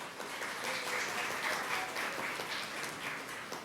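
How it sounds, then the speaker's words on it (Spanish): Soft, distant audience applause at a university admissions event welcoming a licentiate to the stage, a steady patter of clapping with no voices over it. "Con un fuerte aplauso recibimos a la licenciada Rita Elena Tamachiro."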